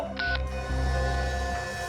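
Telephone call tones, a short sequence of clear electronic beeps on a phone line, fairly quiet, heard alone over a low steady hum.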